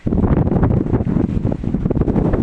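Steady wind buffets the microphone with a low, continuous rumble and gusty roar that rises and falls throughout, with no voices.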